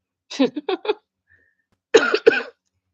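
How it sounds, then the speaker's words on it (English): A person coughs in two close bursts, first three or four quick hacking coughs, then a pause and two heavier coughs, near and loud in a quiet room. "Coughing again."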